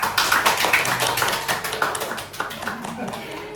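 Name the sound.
round of applause at achievement ceremony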